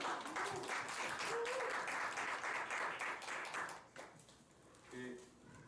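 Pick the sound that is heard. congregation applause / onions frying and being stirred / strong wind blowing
congregation applause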